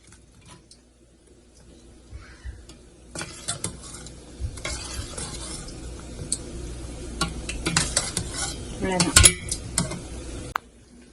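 Fried pakoras dropped into a buttermilk curry (kadhi) and stirred in a pot, with clattering spoon-on-pot knocks, scraping and a soft bubbling sizzle building after a quiet start, with faint voices in the background.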